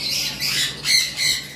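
Caged lovebirds or rosella parrots squawking up close, several harsh, shrill calls in quick succession with no talking.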